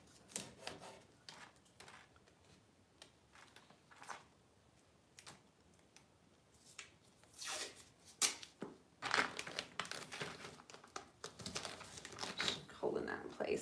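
Adhesive tape is pulled and crinkled during a furniture makeover with a transfer, giving quiet, scattered crackles and rustles that grow busier toward the end while a person talks.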